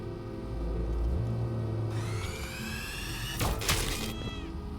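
A cat meows in the video game Stray, a drawn-out call rising over a steady low engine-like rumble, followed by a sharp burst of noise and a shorter meow near the end.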